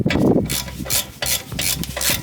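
A wrench working a 17 mm brake caliper bracket bolt loose on a 2022 Honda Civic Si, giving close ratcheting clicks and metallic grinding in short bursts with brief pauses between.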